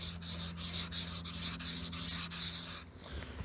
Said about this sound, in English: I've never sharpened a cutthroat razor before.